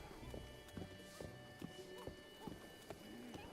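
Hooves of a horse clip-clopping at a steady trot through a city in Zelda: Breath of the Wild, evenly spaced footfalls over a quiet musical backdrop.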